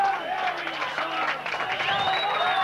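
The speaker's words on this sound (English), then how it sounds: "And the crowd goes mad" Crowd roaring after a goal at an amateur Australian football grand final, a sustained wash of distant cheering and shouting with a voice talking over it.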